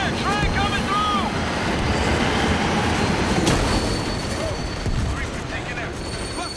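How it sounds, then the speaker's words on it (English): A train rumbles steadily past in the World War Z New York level, loud and continuous with squealing metallic wheel tones and other game sounds on top. "Train coming through!"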